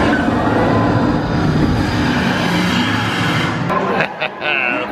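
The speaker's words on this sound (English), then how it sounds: "The train sound effect is about every, I don't know, 2 or 3 minutes apart." A train sound effect at Universal Studios Halloween Horror Nights plays as a loud, steady rumble, with people talking over it and a few sharp breaks near the end.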